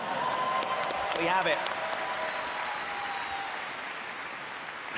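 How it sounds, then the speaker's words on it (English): Audience applause at a Star Wars Celebration panel at the ExCeL Centre, a steady wash of clapping from a large crowd throughout, with a voice speaking briefly over it. "it's when we're clapping, isn't it?"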